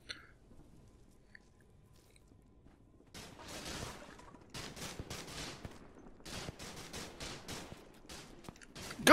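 Gunfire in the video game The Eternal Castle: the first few seconds are nearly silent, then bursts of rapid, crackling retro gunshots come in uneven volleys, fairly quiet and with no talk.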